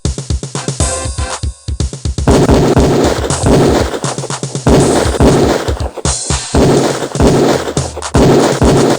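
Beretta pistol fired repeatedly on a police shooting range in the 1993 game Police Quest 4: loud, close, sharp shots in rapid volleys with brief pauses between strings, no talk.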